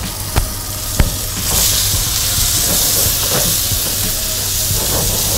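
Beans tipped into a hot pan in a resort kitchen sizzle loudly, a couple of sharp clatters at the start giving way to a steady, dense frying hiss that holds to the end.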